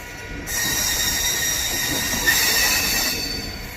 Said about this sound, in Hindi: 10 मिनट की देरी के साथ अपनी ट्रेन पहुंच रही है मथुरा जंक्शन